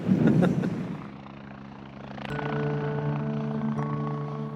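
A Sea King helicopter drones steadily as its engine whine and rotor hum build, a sustained mechanical roar at moderate distance, with no voices.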